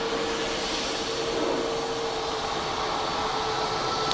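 A Turkish Airlines Airbus A321 arriving from Istanbul at Dublin Airport, its broad jet engine roar steady and fairly loud with a faint tonal whine, no voices present.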